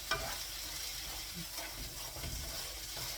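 Garlic sizzling steadily in a hot pan while being stirred, a continuous close frying hiss with soft scraping movements throughout and no talking.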